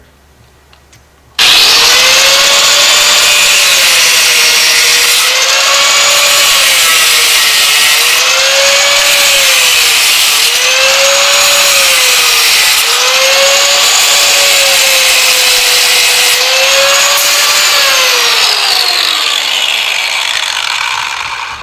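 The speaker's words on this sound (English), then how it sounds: "I use the grinder to cut the pieces to the right size and cut the gate opening" An angle grinder cuts metal fencing panels, giving a loud, continuous, harsh whine whose pitch rises and falls in repeated waves as the disc bites the metal. It starts abruptly after a quiet moment and runs alone for about twenty seconds.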